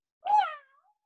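A single clear cat meow, close and fairly loud, rising then trailing off, with silence after.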